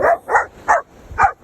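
A dog barks four times in quick succession, loud and close, with short yelping barks spaced about a third of a second apart over a low background rumble.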